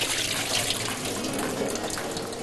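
Soaking water poured off sliced potatoes into a sink, a steady moderate splashing stream of running water heard alone and close.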